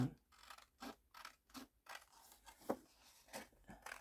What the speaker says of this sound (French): Je vais quand même essayer de couper un petit peu